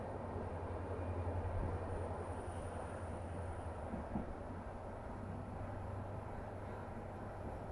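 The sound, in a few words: train standing at New Guwahati railway station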